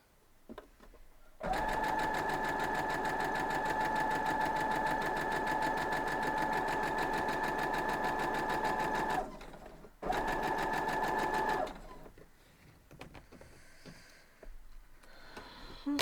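A sewing machine stitches a quilt block in a long steady whirring run, stops briefly, then runs again for a shorter burst before the room falls quiet with faint handling noises.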